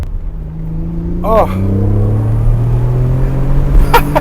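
A Nissan 300ZX turbo accelerates hard, engine rumble rising steadily from inside the cabin as the revs build, with a short exclamation from an occupant.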